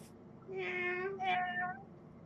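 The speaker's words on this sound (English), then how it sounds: "Yes, that is a cat, not a wolf" A cat meows twice in quick succession, a drawn-out, clearly voiced cry followed by a shorter one, close and loud against a quiet outdoor background.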